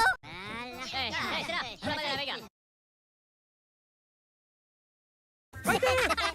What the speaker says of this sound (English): Time to go, Gabby Goose.